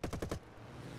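Four rapid, loud bursts from a Spitfire's eight wing-mounted guns in the War Thunder flight game, packed into the first half-second and then cut off, leaving only low engine drone.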